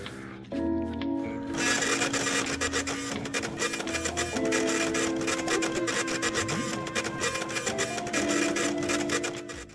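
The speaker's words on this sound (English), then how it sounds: "near the start of the game you can find a printer, and if you interact with it" A printer in the video game Hell Pie runs loudly and continuously, with rhythmic mechanical whirring and rattling that pulses through the whole stretch, alone without talk.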